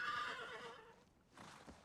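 A horse whinnies loudly and shakily for about a second, then fades; after a short quiet gap, a second softer neigh and snort follow.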